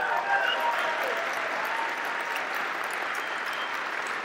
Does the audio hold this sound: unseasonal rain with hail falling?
no